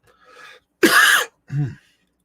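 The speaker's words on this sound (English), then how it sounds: "Post-COVID cough." A single sharp, close post-COVID cough with a softer throaty sound before and after it, in an otherwise quiet setting.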